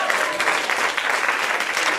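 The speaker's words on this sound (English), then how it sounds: "I want to give a big round of applause to everyone who attended the festival, including performers." Audience applause at a college comedy festival, a dense, steady wash of clapping from a crowd filling the whole short stretch, close and loud.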